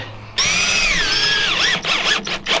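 A power drill whines loudly as it drives a screw into a wooden MTB kicker ramp, its pitch dipping under load, followed by a few short bursts.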